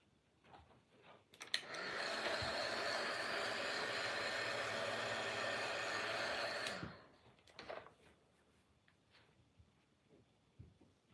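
A hair dryer drying a watercolor painting between washes: a steady whooshing blast switches on, runs evenly for about five seconds close by, then cuts off, with faint handling noises before and after.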